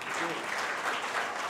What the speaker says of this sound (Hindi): तालियां बजाएंगे आप।